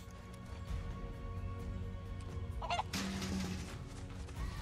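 A chicken in the Final Fantasy VII video game squawks and clucks in short bursts over steady game background music and ambience.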